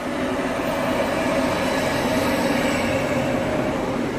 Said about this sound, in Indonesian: Tuh ada lagi mobil truk.